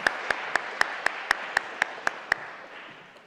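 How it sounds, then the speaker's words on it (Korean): A church congregation at a Korean Sunday service in April 2019 claps in unison for the choir and worship team, about ten sharp, evenly spaced claps before the sound trails off into quiet room noise. "우리 성가대 위해서, 우리 찬양팀 위해서 여러분 뜨겁게 격려 또 감사의 박수"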